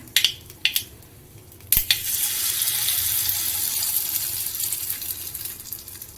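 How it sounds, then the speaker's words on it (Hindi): Semolina batter poured a little at a time into a hot pan, a few light taps first, then a sudden bright hissing sizzle that swells and holds steadily to the end. "अब हम डाल देते हैं अपना थोड़ा थोड़ा सा इनमें बैटर"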